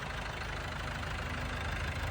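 A Korean-made LG four-cylinder, water-cooled, four-wheel-drive mini tractor idles close by with a steady, even engine rumble and no pauses.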